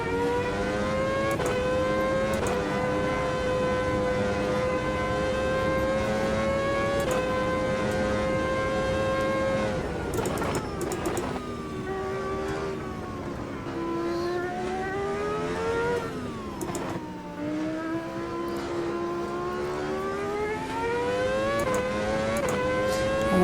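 Race car engine from the Automobilista 2 sim, loud and close, holding steady tones and repeatedly rising through the revs with sharp drops at gear changes as it laps, with no talking.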